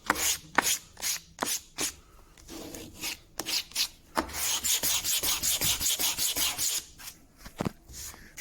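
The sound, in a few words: sanding plywood vice jaw cheeks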